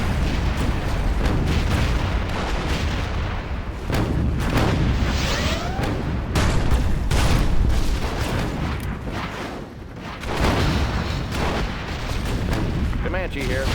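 Tomahawk missile strikes explode in Command & Conquer Generals, a dense, loud barrage of booms and rumbling blasts that keeps going for the whole stretch.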